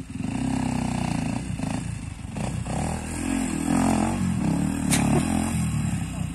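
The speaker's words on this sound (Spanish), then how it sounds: "Él es Ariel, quien tiene una Honda XR250, si no me equivoco." A Honda XR250 enduro motorcycle climbing a hill on a trail in Parque Tunari, Cochabamba, its engine buzzing loud and close with uneven revving and throttle surges, while a person speaks in the background.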